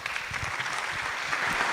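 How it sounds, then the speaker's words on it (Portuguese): Audience at a student design and arts conference clapping for an introduced speaker, a brief, fairly soft patter of many hands in a hall. "Por isso, salva de palmas."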